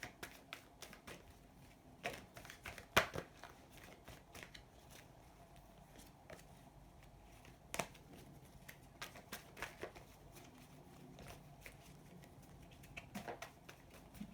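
Soft, irregular riffling and flicking of tarot cards, with scattered sharper clicks over a quiet room background.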